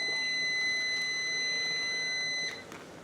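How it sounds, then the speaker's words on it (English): A kitchen timer sounds a continuous high-pitched electronic beep for about two and a half seconds, then stops, leaving faint room noise. "There's your timer, folks."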